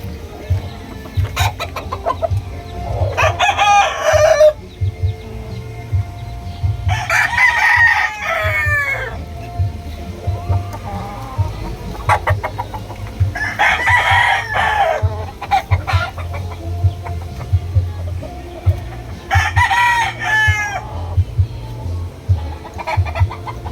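A 10-month-old Kelso gamecock crows four times at regular intervals, loud and nearby, over a low background rumble and occasional clucking.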